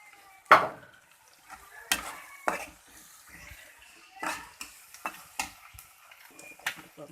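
Meat frying with garam masala spices as it is stirred: sharp, scattered clacks of a utensil against the pan over a faint sizzle, irregular and close.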